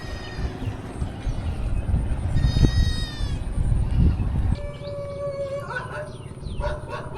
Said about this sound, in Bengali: দেখো নদীর চর দিয়ে প্রচুর ছাগল।